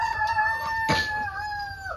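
A rooster crows among KUB and Elba chickens in a coop, a clear drawn-out call over faint clucking and farmyard background.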